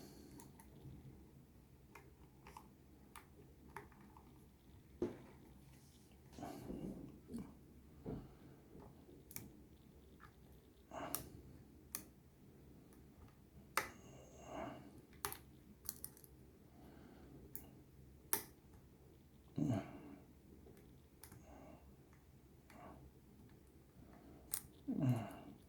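A lock is worked with a key wrench in quiet, close surroundings: faint scattered metallic clicks and light scrapes spread irregularly over nearly half a minute, with a few sharper ticks.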